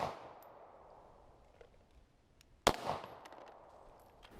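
Glock 19 pistol fired at an outdoor range: one sharp, loud, close report with a ringing tail that echoes off, preceded by faint metallic clicks and handling noises in a quiet setting.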